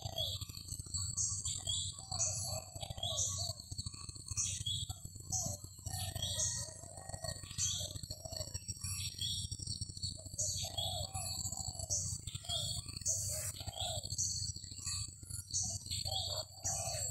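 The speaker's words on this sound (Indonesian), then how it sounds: "tekukur ya namanya ya," Spotted doves call back and forth on a morning outdoors, with repeated soft coos and chirps from more than one bird. They sound moderately distant over a low steady background hum.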